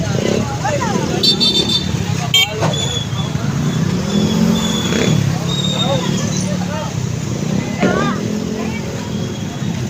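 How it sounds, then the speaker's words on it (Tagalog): Busy street traffic in Consolacion, Cebu after a typhoon, cars and motorcycles rumbling and passing close by with engine drone and a brief horn, while people talk loudly over it throughout. "Traffic ba? May traffic."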